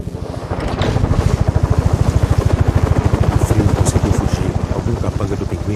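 Loud, rapid rhythmic thumping of helicopter rotor blades in the video game Gotham Knights, steady and close, with wind-like rushing noise underneath.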